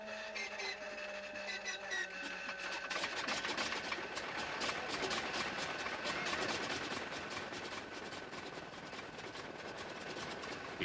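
An aircraft engine at an air pageant cranks over on an electric starter and catches, settling into a steady, dense, loud mechanical roar that runs continuously without a break.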